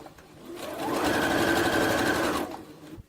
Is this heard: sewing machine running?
yes